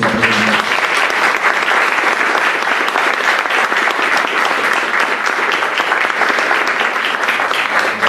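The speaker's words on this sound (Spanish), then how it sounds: "pedirles un fuerte aplauso para las personas que intervinieron hoy en esta presentación" Loud, steady applause from an audience for the presenters at a book launch at a national library, sustained dense clapping filling the whole stretch with no talk.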